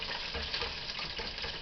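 Chicken deep-frying in hot oil bubbles and sizzles steadily, a continuous crackling hiss with no talk over it.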